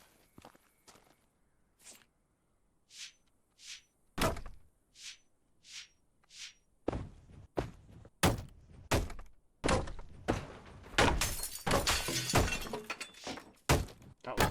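Window smashed in the video game Deconstruction Sim: a series of separate thuds and clinks gives way to loud, dense shattering and breaking impacts, with crashing glass toward the end.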